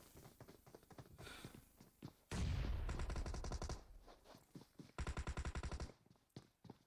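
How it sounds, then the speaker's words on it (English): A competitive video game match where distant shots echo from a church roof. Rapid, clattering bursts of gunfire recur with crisp reports and a steady background of softer pops and footsteps. "we've also got Deadly and Raptor from Grassroots up on the church roof, putting some long distance shots in as well"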